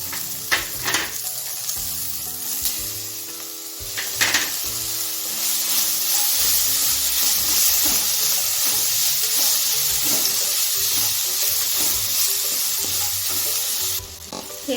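Onion and chopped tomato fry in a pan for misal gravy, a steady close sizzle with occasional stirring scrapes throughout.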